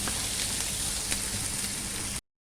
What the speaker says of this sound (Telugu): ఉల్లిపాయలు కూడా బాగా ఫ్రై అయిపోవాలి.